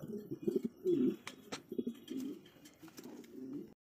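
Large white floor-touch Mundian pigeons coo close by in repeated low, throaty rolling calls, with no talk.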